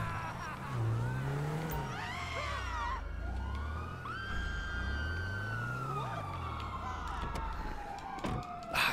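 A police car siren in GTA 5 wails in rising and falling sweeps over a low engine rumble, with further siren tones layered above it, moderately loud and continuous, then a sharp thump near the end.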